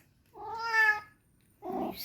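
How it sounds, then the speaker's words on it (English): A cat meows twice up close: a long rising-and-falling call, then a short pause and a shorter, rougher second meow, heard alone in a quiet room. "Oh, you silly cat."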